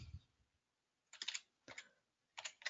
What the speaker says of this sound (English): And I would type in here